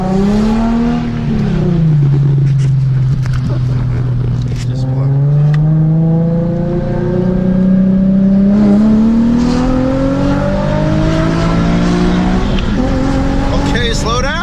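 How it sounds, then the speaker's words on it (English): A 2008 Infiniti G37S, fresh from a galley gasket repair, accelerates hard on a test drive, its engine note climbing and falling through the revs from close inside the car, with voices calling out now and then. "This is the initial test drive of the 37."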